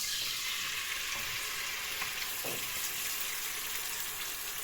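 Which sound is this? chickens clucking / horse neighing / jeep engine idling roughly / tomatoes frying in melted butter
tomatoes frying in melted butter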